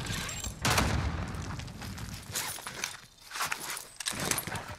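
A frag grenade goes off in Warzone amid a firefight, a booming blast followed by several more sharp, broadband bangs and rattling debris at mid distance.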